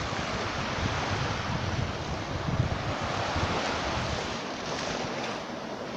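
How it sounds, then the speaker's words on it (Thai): Open-sea waves breaking steadily on an undeveloped tropical beach in Phuket, a continuous loud wash of surf with wind buffeting the microphone throughout and no voices. "ก็จะมีคลื่นอย่างนี้นะครับ"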